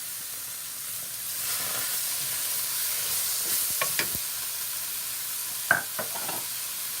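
Wood ear mushrooms, shiitake and carrots are stir-fried in a pan. A soft, steady sizzle runs under a few light clinks and stirring scrapes, fairly quiet, with no talking.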